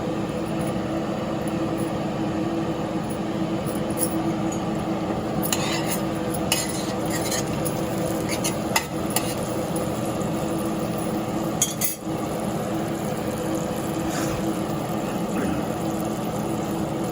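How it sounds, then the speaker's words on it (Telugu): Grated bitter gourd stir-frying in a pan, heard as a low continuous sizzle with scattered spatula clinks and scrapes against the pan, close and moderate in level, without speech. "కాకరకాయ తురుము ఈ విధంగా ఫ్రై అయిన"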